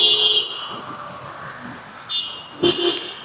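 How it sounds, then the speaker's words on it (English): Car horns beeping on a busy street in Vietnam: a few short, bright toots separated by brief gaps, with one sharper honk near the end over low traffic noise. "so at first, I thought when they beep a lot like that, there's people being rude."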